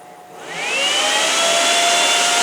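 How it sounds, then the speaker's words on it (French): A computer case fan spins up to full speed when the PC is powered on without RAM installed, a loud, steady whirring roar that swells in the first second and then holds at a constant high pitch with no talk. "quand on ne branche pas la RAM, voici ce qui se passe sur le ventilo"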